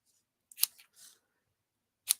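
Scissors snip through the tails of a paper craft piece, two or three crisp close cuts with a short rustle between them, in an otherwise quiet room.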